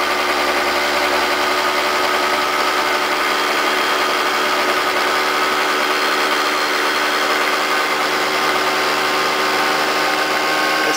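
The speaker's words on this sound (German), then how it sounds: "die Drehzahl ist bei gleicher Leerlaufstellung vom Motor auf 4200 hochgegangen" Small gasoline motor scooter engine running on an oxyhydrogen (HHO) fuel additive, steady at a raised idle around 4200 rpm, a loud, constant buzzing drone with no pauses, close by and with no voices.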